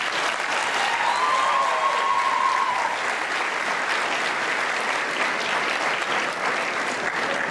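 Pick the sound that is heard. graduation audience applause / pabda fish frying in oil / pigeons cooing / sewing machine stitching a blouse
graduation audience applause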